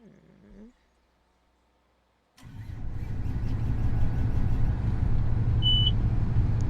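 A tractor in a farming video game, set on a Nebraska map, cranks and fires up after a short silence, settling into a loud, steady engine rumble with a brief beep near the end.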